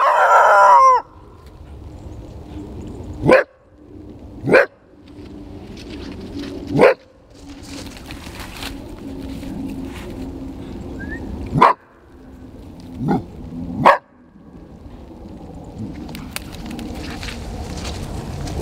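Dogs bark in sharp, isolated bursts spread out across a quiet outdoor field setting during coyote trapping, each bark loud and separated by several seconds of low background noise.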